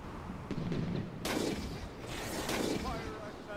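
Ship cannons fire in the pirate naval game Blackwake, with two heavy booming blasts about a second apart, loud and near, while voices talk over the battle.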